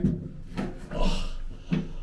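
A heavy door on a WW2 air raid shelter is pulled shut, giving several dull wooden knocks and a scraping creak across two seconds, close and fairly loud, with no talking.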